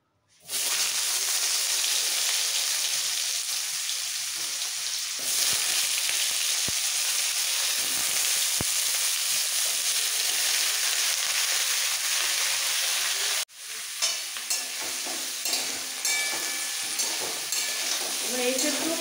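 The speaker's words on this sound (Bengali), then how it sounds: "এবার এঁচোড়গুলো খুব ভালো করে ভেজে নিতে হবে।" Steamed jackfruit pieces drop into hot oil left from frying potatoes and sizzle loudly and steadily. The sizzle briefly dips, then goes on with crackling and occasional stirring.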